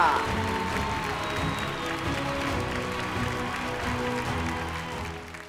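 An audience applauds at an award ceremony, a sustained wash of clapping at moderate volume with a voice heard over it, easing off toward the end.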